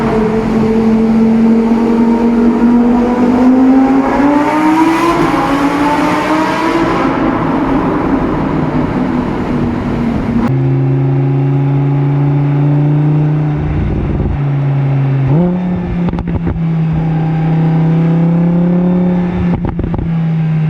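An Audi naturally aspirated V10 supercar engine revs loudly and steadily, its pitch rising and falling in sustained sweeps across several throttle blips, close up and alone with no talk.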